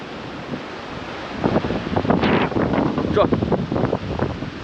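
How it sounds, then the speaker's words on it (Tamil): Gusty wind buffeting the microphone outdoors at Courtallam, Tamil Nadu, rising to a loud rush midway, with a voice talking underneath. "காற்று பாருங்கள் எப்படி அடிக்குது பார்த்தீங்களா?"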